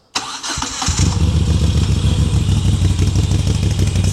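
An Italian Moto Guzzi motorcycle engine cranks with a short clattery start, then catches and settles into a loud, lumpy, rhythmic idle close to the listener.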